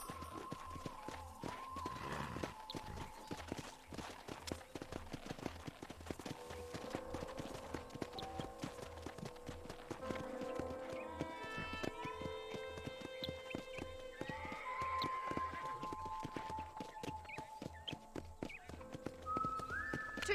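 Horse hooves walking and trotting on a ranch in the Red Dead Redemption video game, a steady clip-clop running throughout with background music and occasional game sounds over it.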